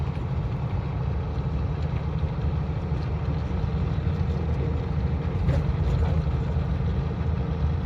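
Vehicle engine running steadily on a long highway drive near Nagpur in cold weather, a continuous low rumble with even loudness throughout and no speech.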